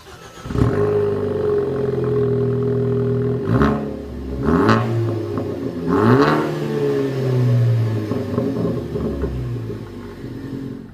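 A car engine idles and then revs in several sharp bursts through a Borla aftermarket exhaust, giving a deep, steady drone between the rising throttle blips, heard close and alone.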